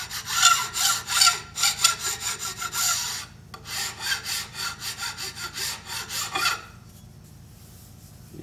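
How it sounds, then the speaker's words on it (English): A hand file rasps in quick, rhythmic back-and-forth strokes along the edge of a saw, close and clear, with a brief pause partway through before the filing stops near the end. "I'm going to take my file and I'm going to come out here and I'm just going to lightly break that outer edge on the back side of the saw."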